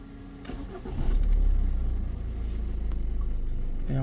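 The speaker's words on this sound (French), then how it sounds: "Donc maintenant je vais redémarrer la voiture les amis." A 1.4 or 1.6 HDi diesel car engine with a clogged particulate filter cranks and catches, then settles into a steady, low diesel idle, close by with no talking.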